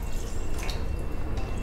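Homemade ranch dressing is poured into a container, giving a soft, quiet liquid trickle with a few faint drips and splashes.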